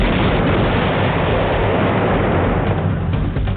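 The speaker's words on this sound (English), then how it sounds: "They drop a bomb on the roof." A bomb dropped by police onto a house roof explodes in a dense, sustained roar that fills the whole stretch loud and close, rumbling without a break before easing slightly at the end, with no voices.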